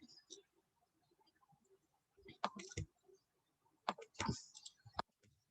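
Keys on a computer keyboard are typed in short clustered bursts of faint, close clicks, separated by quiet pauses.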